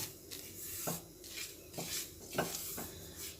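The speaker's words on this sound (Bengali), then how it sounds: "গ্যাসের ফ্লেমটা একদম কমিয়ে দিয়েছি অল্প করে ভেজে নিচ্ছি এবারে এটা নাড়াচাড়া করতে করতে অল্প করে ভেজে নিচ্ছি" Semolina is stirred and dry-fried in a pan over a low gas flame, with soft scraping strokes about every half second and a faint sizzle. It is quiet and close, with no talking.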